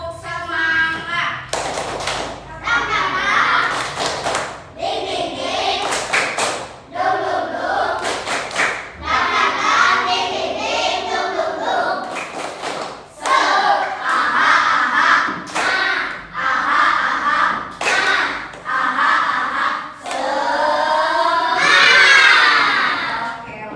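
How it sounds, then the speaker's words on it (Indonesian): A classroom of students doing a rhythmic clapping chant, bursts of sharp group claps and shouted chanting voices alternating in a loud, repeated pattern for about twenty seconds. "Tepuk semangat."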